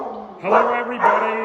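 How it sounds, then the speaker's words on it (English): Dogs at an animal shelter bark, yip and whimper indoors, loud and close, in bursts under a person's greeting. "So I apologize for the dog noise."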